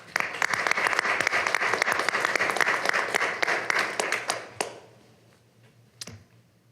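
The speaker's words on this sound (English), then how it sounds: "I think that deserves a round of applause." Applause fills a city council meeting chamber, dense clapping from the room lasting about four and a half seconds before fading to a few last claps and quiet.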